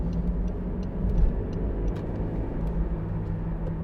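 A 2011 Honda CR-Z 1.5 IMA Sport three-door drives along a road, a steady low engine and road rumble with soft clicks heard from inside the cabin, without talking.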